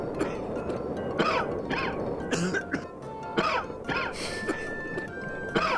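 In the Garry's Mod video game, a character coughs in a run of harsh, repeated bursts amid game noise and background sound effects.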